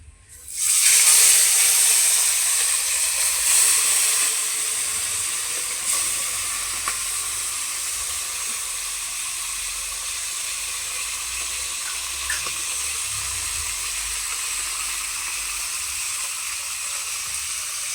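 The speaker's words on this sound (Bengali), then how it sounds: "বাকি মাছগুলোকেও একই রকমভাবে ভেজে নেবো" Whole China puti fish from a pond frying in hot oil give a steady, loud broadband sizzle and hiss that jumps up at the start, then settles into a constant crackling roar for the rest of the stretch, with no voices.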